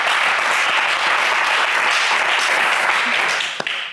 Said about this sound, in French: on vous applaudit, Guy.